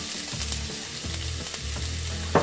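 Oil heating in a frying pan for Mexican quesadillas, with onion about to go in, gives a steady near sizzle, and stirring clatters and scrapes at intervals. A louder clink comes at the end, and no one speaks.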